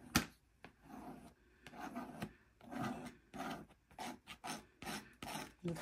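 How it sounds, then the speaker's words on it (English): Paint being scraped across a gelli plate in repeated rough rasping strokes, close and fairly quiet, each pass a short gritty drag with brief pauses between. "The scraping is good."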